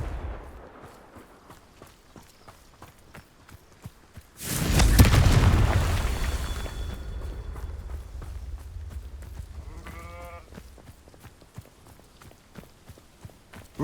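A fire spell in Hogwarts Legacy bursts into one loud, booming explosion that swells suddenly and rumbles low before fading, with quieter ambient rustle and thuds around it.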